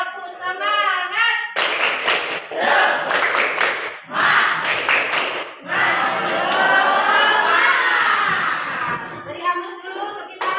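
A classroom of students performs the 'tepuk semangat' patterned clap, loud nearby bursts of group hand claps in rhythmic sets, mixed with children chanting along in unison.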